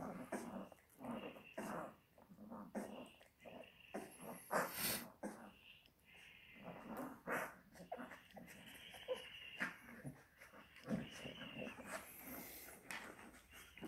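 A two-and-a-half-week-old Spanish Mastiff puppy whimpers, snorts and snuffles close up while taking its first steps, producing a steady series of faint squeaky whines and sniffing noises.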